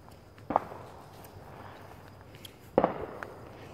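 Fireworks going off in a back yard, two sharp pops about two seconds apart, the second one crackling briefly, heard from a moderate distance against quiet outdoor background.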